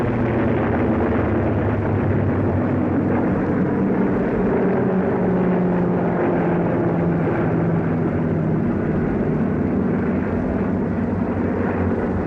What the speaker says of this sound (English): American transport planes loaded with supplies follow us as we advance.